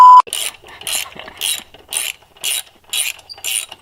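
Ratchet wrench loosening bolts, seven quick bursts of rapid clicking in a steady rhythm about half a second apart, close and loud with no talk.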